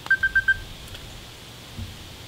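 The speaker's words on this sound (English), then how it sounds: "Somebody's calling me." A phone alerts to an incoming call with four short, evenly spaced electronic beeps, fairly clear and close, followed by quiet room hiss and a soft low thump.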